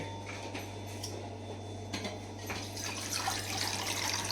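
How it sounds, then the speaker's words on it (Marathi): Water poured into spiced masala rice with soya and peanuts in a pressure cooker, a soft steady trickle and splash over a constant low hum, with a few light clinks near the end. "आता आपण थोडं पाणी टाकूया"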